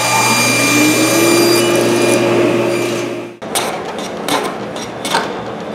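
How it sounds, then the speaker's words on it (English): A table saw with a miter gauge cuts a wooden piece for a small secretary desk. Its motor gives a steady loud whine with a rising pitch, then it stops. Short scraping and knocking sounds of handled wood follow. "I'm going to take them over the table saw with a miter gauge, and I'm going to cut right to the end"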